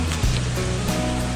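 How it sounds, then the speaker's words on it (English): Steady roar of the waterfall at Elk Falls in Staunton State Park, heard from just below the overlook, a loud, broad, continuous rush of falling water filling the short moment. "So I'm down here, right below the overlook of the waterfall."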